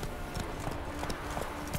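Roach's hooves clatter in a quick, steady galloping beat across The Witcher 3 terrain, close and continuous under a low background wash.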